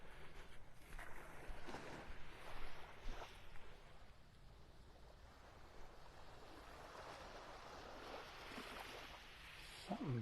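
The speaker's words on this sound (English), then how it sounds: "Something big just splashed behind me." Surf washes onto the shore at Pelican Bay beach in North Naples, Florida, with a few louder surges and splashes of breaking waves over steady ocean noise and wind rumble on the microphone.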